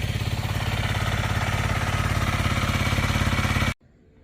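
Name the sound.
Honda CRF 300L motorcycle engine running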